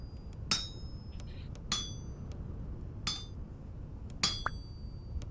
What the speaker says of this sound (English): Breathing and starving while hammering metal.